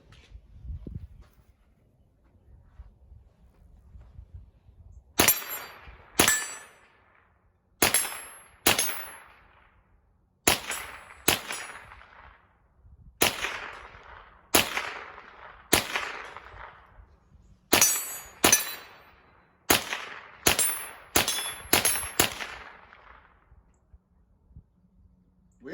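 Marlin and Ruger rifles fire outdoors, about sixteen sharp, loud cracks spaced a second or two apart, each trailing a short echo, with near silence in between.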